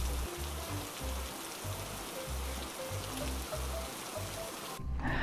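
Rain falls steadily in an animated cartoon, a continuous hissing patter with a soft low rhythmic thumping beneath, running unbroken before briefly shifting near the end.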